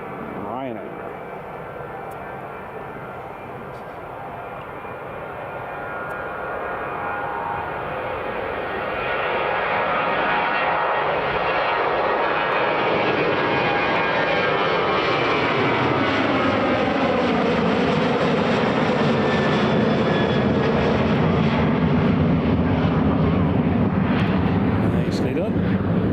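A Ryanair jet airliner departing Edinburgh Airport builds from a distant whine into a loud, broad roar that keeps swelling as it climbs away, with people talking at times beneath it.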